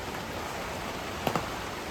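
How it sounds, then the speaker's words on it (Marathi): Heavy rain pours down in a steady, dense hiss onto metal roof sheeting, one sheet broken, with a couple of sharp drips or taps standing out briefly near the end. "पाऊस बघा किती आता"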